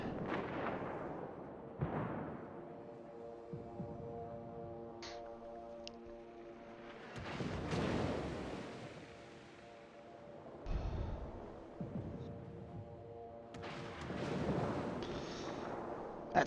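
Torpedo hits exploding on an enemy ship in World of Warships, several deep booming blasts spread over the stretch, rumbling against a steady engine drone and game music, with sharp bursts near the middle and end.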